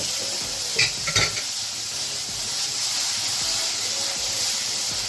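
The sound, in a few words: chicken frying in mustard paste and oil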